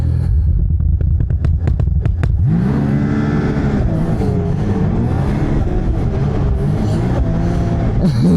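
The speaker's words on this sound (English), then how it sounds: "You're going to hold the brake down 3 seconds and you're going to mat it." Lynx Xterrain 900 Turbo R snowmobile in sport mode launching at full throttle from a brake hold on a snowy trail; a few sharp ticks give way to a loud, rising turbo engine roar that stays close and steady.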